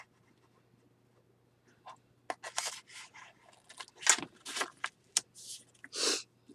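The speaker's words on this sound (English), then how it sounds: "you're going to take your pair of scissors and you're going to cut the littlest" Scissors snipping small pieces from a hanging file folder while making a journal: a few close, crisp cuts and scrapes in short bursts, building to several louder snips toward the end.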